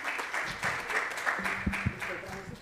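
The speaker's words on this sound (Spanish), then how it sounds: "vamos a recibirla con un fuerte aplauso" An audience at an international seminar applauds as a professor is welcomed to speak. The clapping is faint and dense, with a low voice or two and some thumps underneath.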